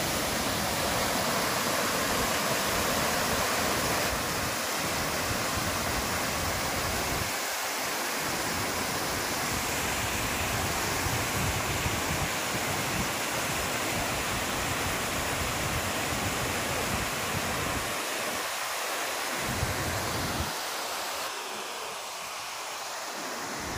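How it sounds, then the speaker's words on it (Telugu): Kuntala waterfall, the highest waterfall in Telangana, pours down a hillside near Nirmal and Adilabad, roaring as a steady, dense wash of falling water that stays loud and unbroken throughout, with no voices. "తెలంగాణలో హైయెస్ట్ అయిన వాటర్ ఫాల్ ఇది."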